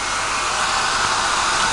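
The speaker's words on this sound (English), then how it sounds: "a hair dryer." A hair dryer blows continuously, a loud steady whooshing hum up close with no change in pitch and no voices.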